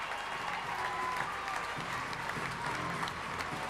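Ice hockey crowd at a rink in Kirkcaldy applauding steadily as Fife Flyers players parade a trophy around the ice after a game against Basingstoke Bison, with dense, continuous clapping and faint cheering filling the arena.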